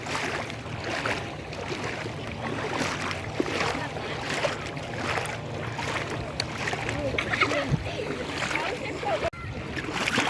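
A person wades into the sea at a beach near Odesa, with water churning and splashing around the legs over a steady wash of surf and wind, and a voice talking now and then.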